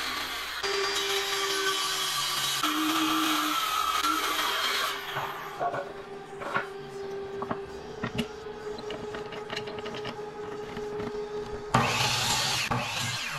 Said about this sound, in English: I'm cutting up a 2x8 into 4 equal pieces